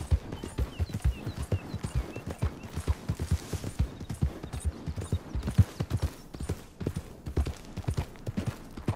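Horse hooves clip-clop in a steady, quick rhythm in Red Dead Redemption 2, close and continuous, with a faint voice briefly underneath.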